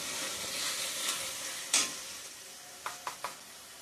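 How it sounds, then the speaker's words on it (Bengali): Ground spice masala with turmeric frying in a pan gives a continuous soft sizzle, with a sharp scraping stir near the middle and three quick clanks of a spoon toward the end. "ভালো করে কষিয়ে নিব মশলাটা।"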